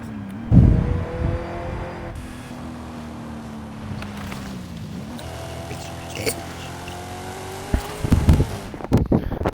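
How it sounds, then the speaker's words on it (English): A car engine in Forza Horizon 5 drones and shifts pitch, revving up and down with gear-change-like steps, with a few brief bursts and thumps near the end. "I like how every car in this game just sounds like transmission."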